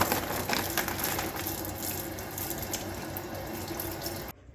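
Raw chicken being rinsed under a running kitchen tap during bulk meal prep, a steady close hiss of flowing water splashing into a sink, continuous for several seconds before cutting off abruptly.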